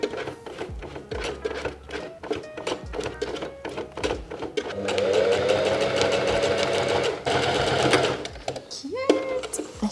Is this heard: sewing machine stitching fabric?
yes